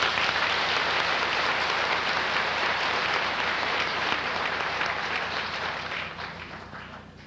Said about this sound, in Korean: 다 같이 박수하겠습니다.